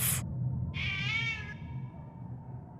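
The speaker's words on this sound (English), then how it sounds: "There are some cats." A single cat meows once, clear and close, with a short whine trailing off over a low room hum.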